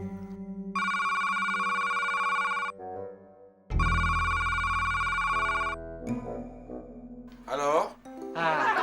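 A telephone rings in a comedy sketch, two long electronic ringtone bursts with a short pause between them, loud and close, followed by people talking.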